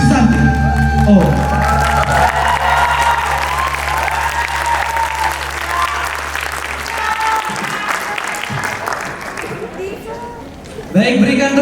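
Enthusiastic audience applause with some cheering after a Balinese dance drama performance, steady and loud for most of the stretch over a sustained musical drone that cuts off near the end.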